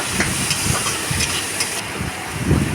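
Sliced onions fry in hot oil with nigella seeds, a continuous close sizzle and hiss with soft bursts of crackle and faint stirring knocks.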